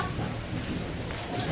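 A thunderstorm with heavy rain, dense steady hiss of rainfall with a low rumble underneath, close and continuous over a short stretch.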